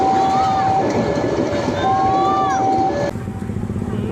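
Ranggajati passenger train striking a minibus at a gated railway crossing, a loud steady rumble with a sustained warning horn tone and crossing noise, cutting off abruptly near the end with quieter background.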